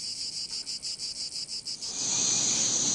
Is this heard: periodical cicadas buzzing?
yes